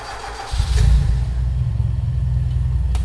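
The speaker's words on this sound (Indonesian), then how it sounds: "Kita hidupkan mesin." A car engine is started during an ignition check with a multimeter: a short cranking whirr, then the engine catches and settles into a steady, fairly loud rumbling idle nearby.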